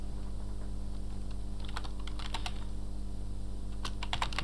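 Typing on a computer keyboard, soft steady key clicks with a few quick bursts of sharper taps, close and quiet against a low hum.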